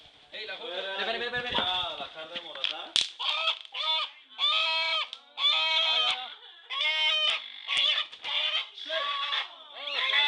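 Squawking, honking bird cries, a hen being chased and caught, come in frantic repeated bursts of varying length, fairly close and loud, with rustling and scuffling between calls.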